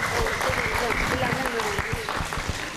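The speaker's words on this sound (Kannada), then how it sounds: "ಆತ್ಮೀಯವಾಗಿ ತಮ್ಮೆಲ್ಲರ ಜೋರಾದ ಚಪ್ಪಾಳೆಯೊಂದಿಗೆ ಅವರನ್ನು ಬರ್ಮಾಡ್ಕೊಳ್ಳೋಣ" An audience applauds to welcome a singer onto the stage at a music award commemoration event. A dense, continuous patter of clapping runs under a voice speaking.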